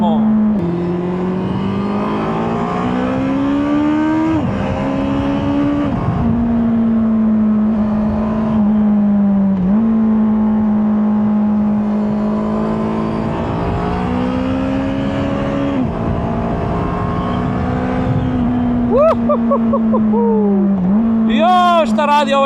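A motorcycle engine revving hard while riding, pitch climbing and dropping through gear changes in a loud, close, continuous whine with wind rush, as a rider speaks over it.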